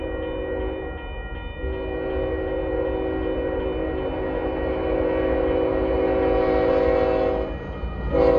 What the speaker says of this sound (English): you get a westbound empty coal train with a pair of GEs on the head end